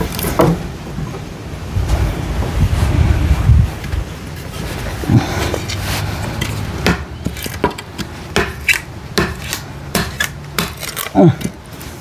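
Gusty wind buffets the microphone outdoors, with a heavy low rumble early on, then lighter rustling and scattered scraping knocks.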